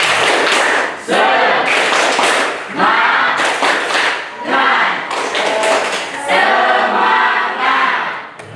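A crowd claps in quick rhythmic bursts of three, pausing between rounds, with loud group shouts and cheers mixed in.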